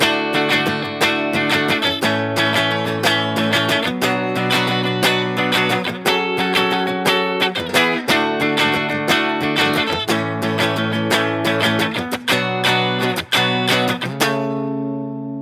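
Acoustic guitar strumming the chords of a song, steady rhythmic chord changes played close and loud with no talking, the final chord ringing out at the end.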